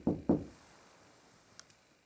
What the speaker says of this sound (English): Yeah, that was a knock.